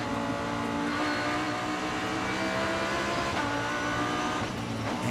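Audi GT race car with a 5.2 litre V10 engine at the Macau Grand Prix FIA GT World Cup on a street circuit: a loud, continuous high-pitched singing engine note held steady, with no talking over it.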